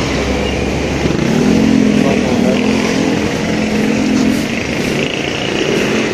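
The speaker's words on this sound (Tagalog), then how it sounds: "160 pala to. 160. Bagong labas ata to ng Honda eh." A new Honda 160 scooter motorcycle engine runs close by with a steady hum that rises in a brief rev in the middle and then settles back to idle.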